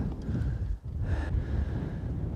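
Strong wind buffets the microphone on a golf course, a low, rumbling roar that dips briefly before gusting back up, steady and close with no talk.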